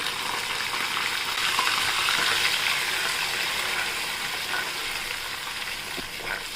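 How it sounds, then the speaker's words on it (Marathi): Onion paste sautéing in hot oil with cumin and mustard seeds for a split chickpea gravy, giving a steady, close, full sizzle that swells slightly midway and then settles, with no talk. "आता तेलात परतून घेऊ आपण"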